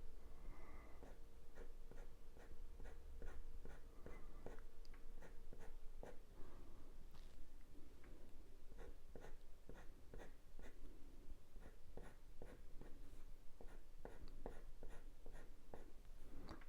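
A thin white coloured pencil strokes over dark coloured paper to draw a Border Collie puppy's fur, making a close, quiet, steady series of short scratchy marks laid down in quick rhythmic groups.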